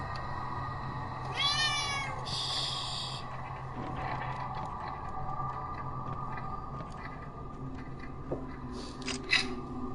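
Cat meows from the horror video game Fatal Frame: Maiden of Black Water, a few short rising cries standing out over a steady low ambient hum, with a brief higher call near the end.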